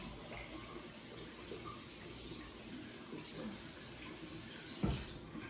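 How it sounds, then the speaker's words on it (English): Hands are washed under a running kitchen tap, a faint, steady stream of water splashing into a sink, with a brief louder clunk near the end and no clear voices. "I'll wash my hands off."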